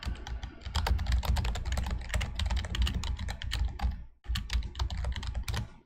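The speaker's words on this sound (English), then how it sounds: "Let me type it out too." Fingers type on a computer keyboard in a steady run of close, crisp key clicks with irregular rhythm, briefly pausing before resuming.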